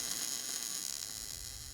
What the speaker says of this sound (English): we're just going to tack weld it for now